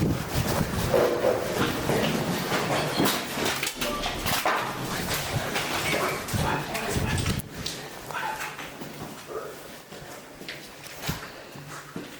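A dog barks and yips repeatedly among busy noisy surroundings, with people talking and a rumbling background throughout.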